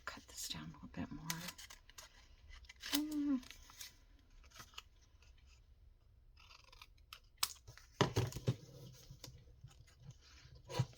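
Scissors snip through colored junk mail envelope paper in short crisp cuts and rustles, scattered unevenly across the clip at close range, with a soft voice speaking now and then.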